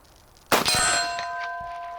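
A bullet from a WWII-era small arm strikes a steel target with a single sharp clang, followed by a ringing metallic tone that slowly fades, with no talking.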